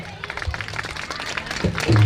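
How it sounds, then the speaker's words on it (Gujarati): An audience at a Ram Charit Gyan Yagna religious gathering at a Mamadev temple claps and applauds together, a dense patter of hands with a voice over it. "જોરદાર તાળી થઈ જાય"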